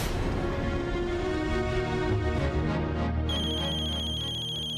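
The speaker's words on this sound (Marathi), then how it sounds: "फोन वाजतोय तुझा" A mobile phone ringtone plays a repeating electronic melody, fairly loud and alone, then shifts to brighter, sharper tones partway through.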